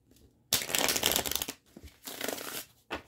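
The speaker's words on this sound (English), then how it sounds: "let's do one more shuffle" Tarot cards are shuffled in two crisp riffling bursts, close up, separated by a short pause and followed by a brief final flick, with no talking.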